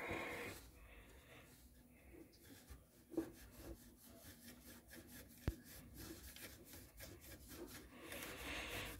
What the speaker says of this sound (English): So now I have a cloth so I can clean off the excess thermal compound